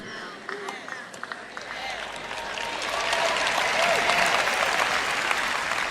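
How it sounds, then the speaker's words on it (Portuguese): Audience applause at a large Christian preaching event, starting as scattered claps and swelling after a few seconds into a fuller, steady round that carries on to the end, with voices faintly mixed in. "Foi um aplauso bem fraquinho, viu?"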